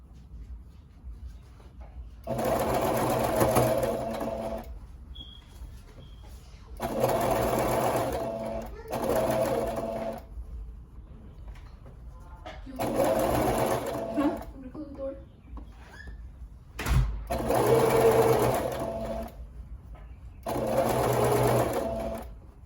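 A Brother PE800 embroidery machine stitches a fabric diaper cover in several loud, steady bursts of rapid mechanical whirring, separated by quiet pauses. A voice murmurs faintly between the bursts.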